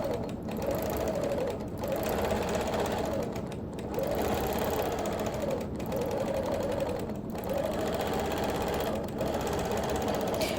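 A sewing machine stitches feather patterns on a quilt, running in rapid bursts of steady needle chatter separated by short pauses, close and moderately loud with no talk.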